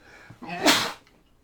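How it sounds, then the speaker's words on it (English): A single close sneeze, a brief breathy build-up followed by a sharp, loud burst that quickly fades into quiet. "Sorry, I'm going to sneeze."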